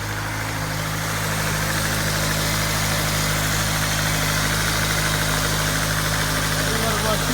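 A 2003 Ford Focus SVT engine idling smoothly and steadily up close, a continuous even hum with faint rattle, with no change in pitch.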